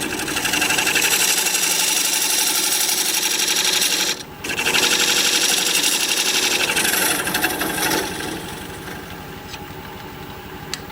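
A wood lathe spins while a dovetail tool cuts a dovetail into the side of a recess, making a continuous dense scraping, rasping whir that briefly drops out, then resumes and softens toward the end.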